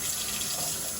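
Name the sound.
tap water running for rinsing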